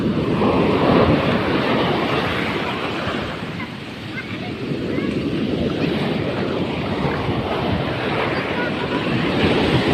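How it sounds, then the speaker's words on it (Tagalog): Large ocean waves crash and surge continuously on a windy shore, a steady loud roar with wind buffeting the microphone and people shouting excitedly nearby. "Ang laki ng alon"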